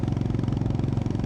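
A 2025 Honda GB350S single-cylinder motorcycle runs close by with a loud, even low thump, its pulsing beat steady across the short stretch with no talk.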